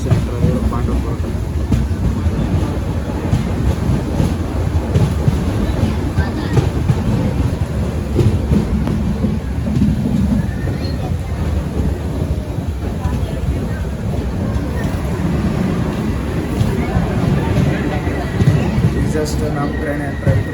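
Inside a Golgumbaz Express third AC coach running from Mysuru toward Yeshwantpur, a loud, steady rumble of wheels and wind fills the carriage as the train enters Pandavapura station, with murmuring voices mixed in throughout.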